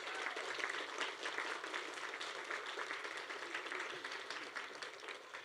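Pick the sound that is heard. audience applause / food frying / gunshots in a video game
audience applause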